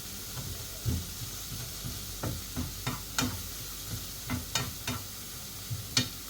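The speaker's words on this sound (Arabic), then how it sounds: "غادي نحركو مزيان البصله" Onion and garlic fry softly in a pan while a utensil stirs them, giving a series of sharp scraping strokes at an uneven rhythm over a faint, constant sizzle.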